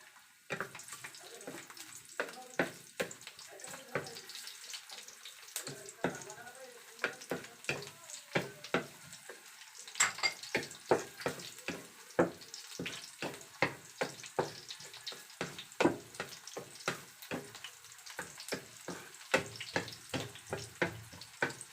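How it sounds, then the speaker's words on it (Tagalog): Garlic frying in oil in a pan for Bisaya pork humba, a quiet continuous sizzle broken by many scattered crackles and stirring clicks, close by and fairly soft throughout. "ilunod na po natin yung bawang"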